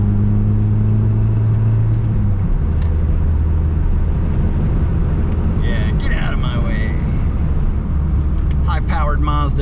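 A 1988 Mazda 323 with 87 horsepower runs close by, a steady low engine drone that shifts pitch once early on, with a voice speaking over it near the end.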